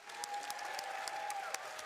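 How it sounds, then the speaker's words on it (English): A convention audience at a Final Fantasy XIV fan festival applauds briefly, a fairly faint, continuous wash of crowd clapping lasting under two seconds. "give these two a big round of applause once again"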